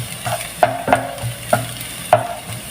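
Garlic browning in a frying pan, stirred in regular scraping strokes about every three-quarters of a second over a steady low sizzle.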